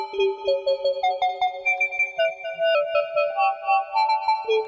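Analog synthesizer sequence of bright, plucked tonal notes stepping through a melody, each note trailing into a wash of reverb, steady and fairly loud with no voices.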